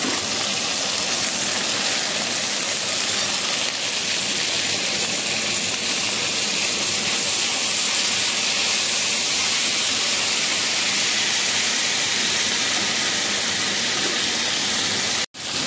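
Tomatoes tip into a hot pan for oats upma and set off a loud, steady, close sizzle that hisses on without a break, then cuts off abruptly at the end.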